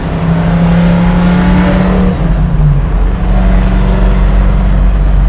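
A garage-built 1965 Ford Mustang coupe hot rod heard from inside while driving, its engine and exhaust droning loud and steady with a low throaty rumble and a shift in pitch partway through.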